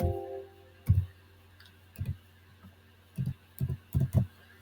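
Keys tapped on a computer keyboard in short, irregular clusters of clicks, close and fairly quiet over a faint steady hum.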